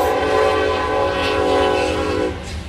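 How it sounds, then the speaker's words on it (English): A train rushes through town close by, producing a loud, continuous rumble with a sustained horn blast that fades near the end. "here comes the train"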